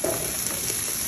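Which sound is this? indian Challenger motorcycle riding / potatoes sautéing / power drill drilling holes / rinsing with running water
potatoes sautéing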